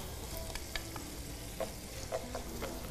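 Onions and tomatoes fry in hot oil in a pan, a steady broadband sizzle with a few soft stirring taps scattered through, fairly quiet and close, with no talking.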